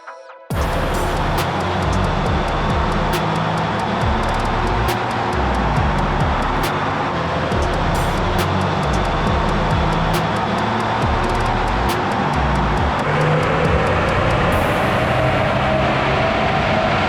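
A Jeep Wrangler JL EcoDiesel runs hard in four-wheel drive on an all-wheel-drive dyno, giving a loud, steady, continuous engine and drivetrain roar that holds for the whole pull.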